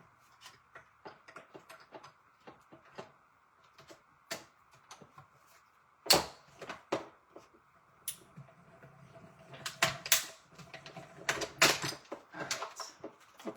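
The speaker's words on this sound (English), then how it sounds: "Come on, little cutting machine." Electronic paper cutting machine cutting paper strips, a faint run of light ticks and clicks from its moving blade and carriage, with a few louder clacks and rattles toward the end, no voices.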